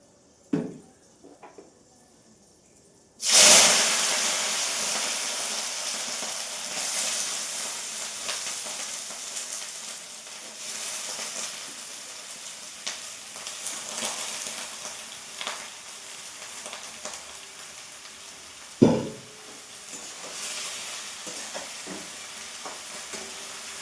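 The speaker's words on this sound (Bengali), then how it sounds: "পট পট করে ফাটে আর চতুর্দিকে তেলগুলো ছড়ায়" Onion fries in oil in a wok with a loud, sustained sizzle, irregular pops and spattering, plus a couple of sharp clanks from stirring.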